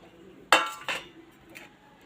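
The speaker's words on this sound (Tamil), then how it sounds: "இந்த பாத்திரத்தில் நாம் எடுத்து வச்சுருக்கிற வரகரிசியை சேர்த்துக்கலாம்." Varagu rice poured into a metal vessel, two sharp metallic clinks in quick succession followed by a faint scatter of grains, close up with no talking.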